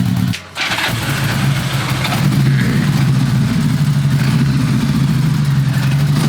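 A vintage motorcycle engine idles on choke, loudly and steadily after a brief dip at the start, its low, even rumble running throughout with no voices.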